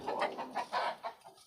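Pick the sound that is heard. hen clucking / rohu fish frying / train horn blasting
hen clucking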